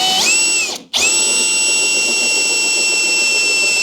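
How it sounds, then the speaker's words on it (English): A power drill bores holes for stainless button head cap screws while fitting a roof scoop to a rally car, its loud whine steady at first, cutting out briefly, then spinning back up and running continuously up close. "Keep drilling."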